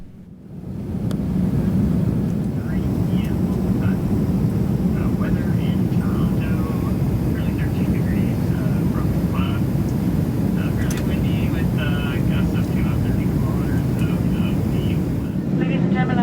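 Economy cabin of an Air Canada Boeing 777-300ER in flight shortly before landing: a loud, constant broadband engine and air roar runs throughout, with faint speech-like sounds drifting over it.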